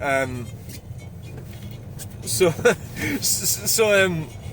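A car engine hums low and steady while driving, sitting under continuous talking from a man inside the vehicle.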